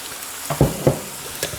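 Bok choy is stirred in a pan with dark soy sauce, a few soft scraping clacks of the utensil over a low, steady sizzle, close and fairly quiet.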